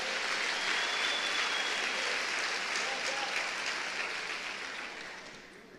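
A church congregation at Lagoinha Niterói applauds loudly and steadily, a dense wash of many hands that holds for several seconds before easing off slightly at the end.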